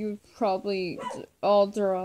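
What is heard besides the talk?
dog barking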